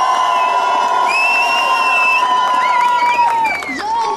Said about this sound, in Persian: یک کف سود، هورا و تشویق